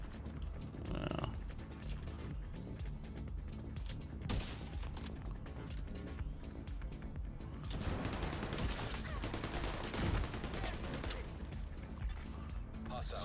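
Gunfire in The Division 2 during a territory-control fight, dense bursts of shots and crashes running throughout at steady loudness, with a louder cluster near the end and voices talking over it.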